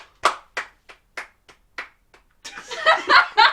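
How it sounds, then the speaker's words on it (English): A small podcast studio group clapping: about eight separate, close, sharp claps at an uneven pace, then a burst of laughter and chatter with a few more claps mixed in. "Hey, round of applause"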